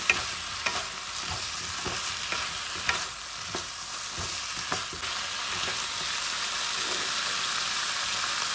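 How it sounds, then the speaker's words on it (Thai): Close scraping and clacking of a utensil stirring chicken and eggplant curry in a sizzling pan, irregular strokes over a constant frying hiss. "คนให้เข้ากัน"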